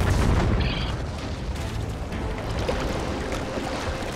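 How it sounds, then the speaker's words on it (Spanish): A cartoon island volcano erupts in a deep, continuous rumbling roar with rolling booms, loud and sustained throughout, with no talk over it. "¡El volcán de la isla está en erupción!"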